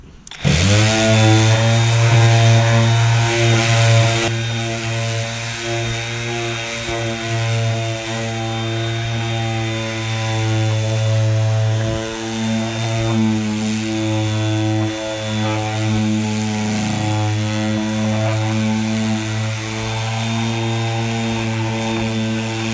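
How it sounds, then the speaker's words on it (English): A DeWalt 20V MAX XR palm sander runs steadily on its low setting while sanding a stand, giving a loud, continuous motor whine with a grinding buzz and slight pitch shifts as pressure varies. "Still want to sand it down, make it smooth for the paint."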